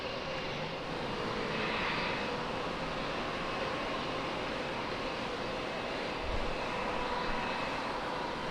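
A Horizon regional airliner takes off from runway 27 at San Diego, producing a steady, loud engine roar that holds at the same level from start to finish.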